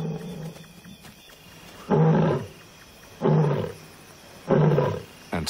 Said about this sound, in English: Distant roars echo through the cool night air. Their male is calling, the sound carrying almost 5 miles across the valley,